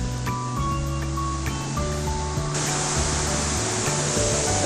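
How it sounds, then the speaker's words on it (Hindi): Manthoka Waterfall near Skardu roars as a steady, dense wash of falling water, broad and constant throughout, with faint tonal hum and other background sounds layered over the continuous rush. "Beautiful view of मंटोका waterfall."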